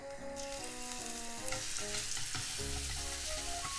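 Grated garlic sizzles steadily in a tablespoon of frying oil in a pan over medium heat, a continuous close crackle with light stirring, under background music.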